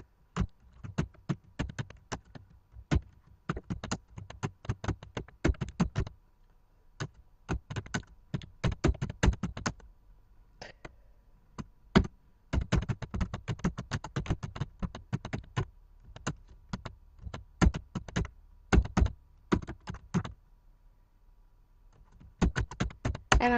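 Steady typing on a computer keyboard, close and fairly quiet, with bursts of rapid key clicks broken by brief pauses, no voices.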